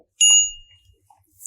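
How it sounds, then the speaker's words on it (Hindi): A small bell rings once with a bright, clear strike that decays over about a second, followed by a few faint knocks and rustles nearby. "इस तरह की घंटी"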